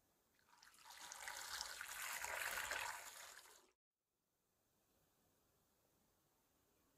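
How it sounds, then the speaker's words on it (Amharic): Fresh okra washed by hand in water with baking soda, a splashing, trickling rush lasting about three seconds at close range, then near silence. "ስለዚህ እንዲህ አድርጌ ሙልጭ አድርጌ አጥበዋለሁ ማለት ነው።"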